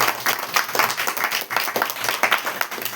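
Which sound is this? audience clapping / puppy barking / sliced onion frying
audience clapping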